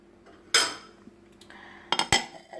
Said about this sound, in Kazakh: сонымен бетіне тарелканы жауып қоя тұрамыз